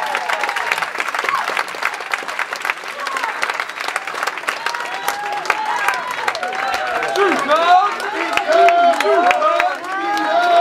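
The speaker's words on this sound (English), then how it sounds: "Let's give them all that round of applause." A church congregation applauds at a Sunday evening street service, dense sustained clapping from a crowd building in intensity, with cheering and whooping voices rising toward the end.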